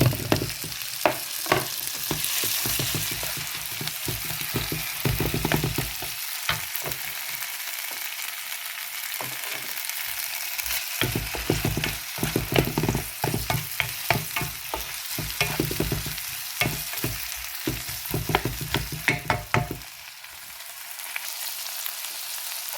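Tomatoes fry in a pan for tomato rice, a steady, fairly loud sizzle with frequent scraping and stirring clicks and a short lull near the end.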